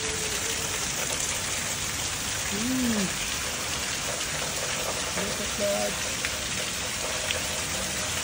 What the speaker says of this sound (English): The rain is pouring really hard.